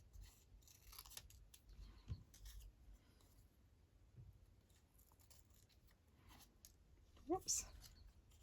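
Small scissors snip around a paper butterfly cut out for a collaged postcard, quiet irregular cuts and paper rustling with a sharper snip near the end.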